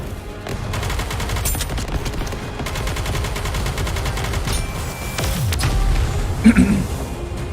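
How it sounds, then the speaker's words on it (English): Sustained rapid automatic gunfire in the video game Nikke, loud and continuous with a rattling rhythm, mixed with some game voices and a few heavier impacts near the end. "We need to fire straight ahead."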